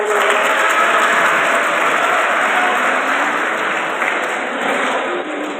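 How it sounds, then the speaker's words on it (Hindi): Loud, dense applause from a student audience at a career counselling event in a college hall, clapping steadily for several seconds and easing slightly near the end. "एक बार जोरदार तालियां हो"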